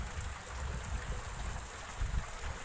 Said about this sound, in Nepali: हिजो बेलुकादेखिको अहिलेसम्म है स्टिल पानी परिरहेको छ।